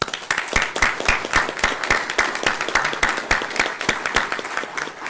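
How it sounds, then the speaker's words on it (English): A small group claps in welcome for a new board member at a public board of trustees meeting, a steady run of sharp, fairly close hand claps lasting several seconds with no talk over it. "Please join me in formally welcoming Mr. Bill Welch with a round of applause."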